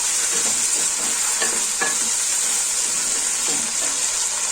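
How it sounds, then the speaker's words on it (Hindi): Okra (bhindi) frying in oil for a spicy yogurt dish gives a loud, steady sizzle close by, broken by stirring scrapes and light clinks. "भिंडी को अच्छे तरीके से हम करेंगे फ्राई"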